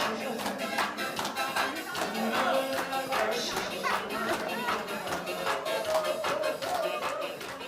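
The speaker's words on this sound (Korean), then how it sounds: "박수 한번 주세요." Audience clapping and cheering at a televised group session, steady rapid claps spread across a room with music and chatter mixed in throughout.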